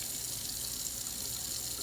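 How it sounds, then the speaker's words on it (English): Water runs steadily from a sink tap during handwashing, a constant close hiss and splash with no talk over it. "turn on our water."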